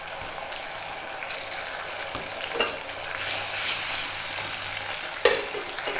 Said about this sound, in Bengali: পেঁয়াজগুলো লাল লাল করে ভাজা হয়ে গেলে আমি আদা পেঁয়াজ রসুন বাটা দিয়ে দেবো